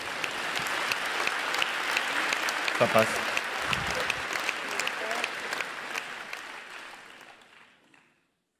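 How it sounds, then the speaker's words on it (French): A graduation ceremony audience applauds the rector with dense, sustained clapping that fills the room, with a brief spoken voice partway through, before the applause thins and fades out near the end. "Applaudissez-le pour qu'il soit quand même content du moment"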